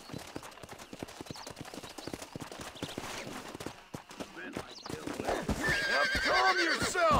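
A wild horse in Red Dead Redemption clip-clops in a quick run of hoofbeats, then lets out a loud, shrill neigh near the end, close and clear with a faint voice underneath.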